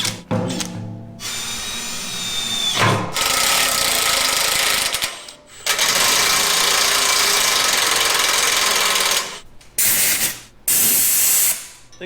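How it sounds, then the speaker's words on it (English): A power drill drills metal on a large wrecker truck in several long, loud bursts with abrupt stops between them, its high whine steady and close. "Now I've got to somehow drill that and tap it and smash it over."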